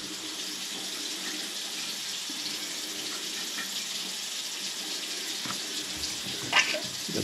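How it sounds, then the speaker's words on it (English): Water runs steadily into a bathtub drain while it is being cleared of a clog, a continuous hiss and gurgle lasting several seconds with a small splash near the end, and no talk. "Got the bath sink drain running."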